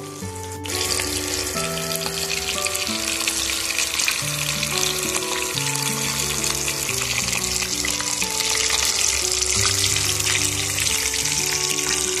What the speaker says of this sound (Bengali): মাছটাকে লালচে করে ভালো করে ভেজে তুলে নিতে হবে।